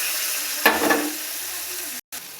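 Prawns fry in a pan with mustard and poppy seed paste, a burst of sizzling and stirring rising briefly before settling into a softer hiss.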